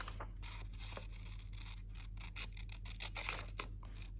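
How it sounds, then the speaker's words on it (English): Scissors snip and scrape through paper while cutting out pieces for a collage, a quiet, close series of irregular crisp cuts and rustles. "So we'll cut around that one very quickly. If we can find the scissors."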